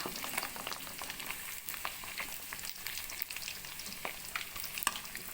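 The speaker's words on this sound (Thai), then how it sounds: "ทอดไปเรื่อยๆค่ะเดี๋ยวก็ได้หอมค่ะ หอมคลิ่นน้ำปลา" Pork belly fries in hot oil with fish sauce, giving a continuous soft sizzle dotted with small crackles and pops at low volume.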